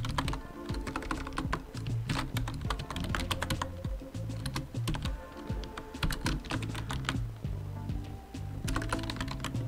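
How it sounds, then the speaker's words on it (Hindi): Rapid, steady clatter of keys on a computer keyboard as an address is typed, close and continuous with a low hum of background music beneath. "मैं यहाँ पर टाइप कर लेता हूँ एड्रेस"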